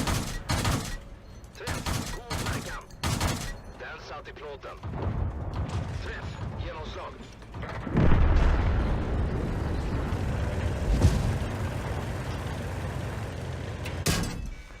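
A tank in World of Tanks taking shell hits, with sharp explosive bursts and impacts that give way to a dense, rumbling barrage of blasts and mechanical clatter.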